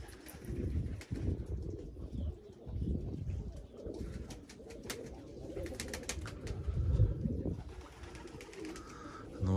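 Pigeons at a dovecote cooing and fluttering close by, soft murmuring calls repeating steadily over several seconds with light rustling and faint background noise.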